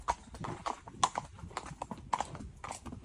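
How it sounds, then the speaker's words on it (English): Hooves clip-clop in an irregular trotting rhythm as a horse pulls a horse-drawn tram along steel rails, the sharp knocks close and distinct against a quiet background. "She packed her bags and hopped on the local horse car, or horse-drawn tram."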